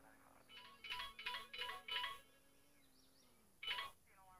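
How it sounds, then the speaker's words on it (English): A phone alert plays on a mobile phone, a rapid series of four bright chiming pulses, then a pause and one more chime, with a faint hum underneath. "I had an alert come through on my phone."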